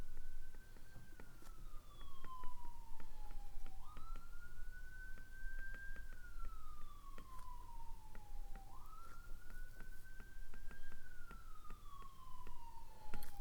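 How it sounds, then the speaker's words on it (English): Siren outside during a topology lecture, a distant wailing emergency siren that slowly rises and falls in long sweeping cycles, faint and steady against room noise. "I apologize for the siren outside if you can hear that."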